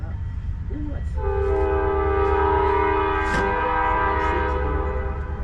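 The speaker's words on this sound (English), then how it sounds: "Man, these trains are active over here." A train rolls past near a deck construction site, its horn sounding in long sustained blasts that dominate the whole clip over a steady rumbling roar, with brief speech faintly underneath.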